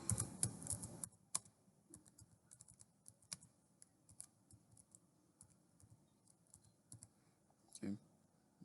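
Fingers type on a computer keyboard in quick uneven bursts of light clicks, close and quiet, after a brief stretch of talking at the start.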